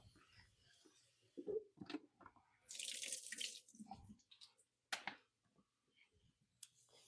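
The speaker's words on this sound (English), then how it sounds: "I'm going to give it a quick rinse." Fresh garden basil rinsed under a running kitchen tap: a quiet gush of water lasting about a second, then a brief second splash, with soft handling clicks and drips in between.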